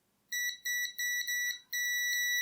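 A WinAPEX ET8104 multimeter gives sharp high-pitched electronic beeps, four short ones in quick succession followed by a longer continuous tone, clear and close.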